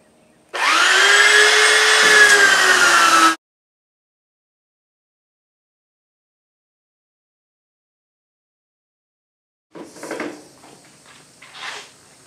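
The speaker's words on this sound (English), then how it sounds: "Okay, I'm going to start sanding." A power sander works a wooden outdoor DIY decor piece in a workshop, a loud steady whirring burst lasting about three seconds. Silence follows, then faint scraping and handling noises near the end.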